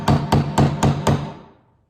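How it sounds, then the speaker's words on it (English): Five sharp hammer blows strike down on glove leather, evenly spaced about a quarter second apart, each a crisp knock with a short ringing decay, close and alone, fading to silence after the last hit. "we want to grab a hammer and hit that down"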